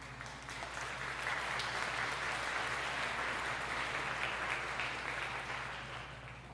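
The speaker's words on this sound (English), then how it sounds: "you can applaud for that" Sustained applause from the audience at a university commencement, a thick even roar of clapping that holds steady throughout and eases slightly at the close, with a low hum underneath.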